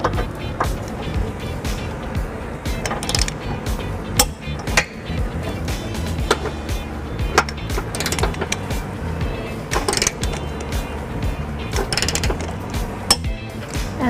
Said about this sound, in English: When you reach the proper torque, you're going to hear that nice little click.